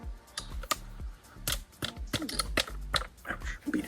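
A .50 caliber bullet in a plastic sabot is rammed down a muzzleloader barrel with a starter, giving a run of close, sharp knocks and taps in an irregular rhythm, with no talk over them.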